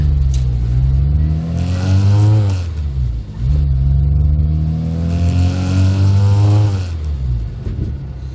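Classic Mini with an A-series engine accelerating hard, loud close engine note climbing in pitch, dropping briefly at a gear change, then rising again before easing off.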